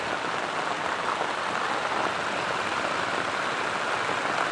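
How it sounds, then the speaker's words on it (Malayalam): Heavy rain pouring steadily onto a home construction site covered with sheets, a dense, constant hiss of falling water with no pause. "നല്ല മഴയാണ് ഇവിടെ."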